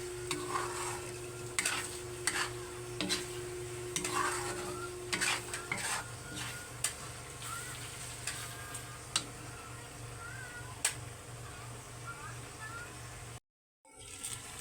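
Bird's eye chilies sizzle in olive oil with garlic as a steady close frying hiss, with a spoon stirring and clinking against the pan at intervals, before the sound cuts out abruptly near the end.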